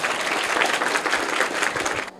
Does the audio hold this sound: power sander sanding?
no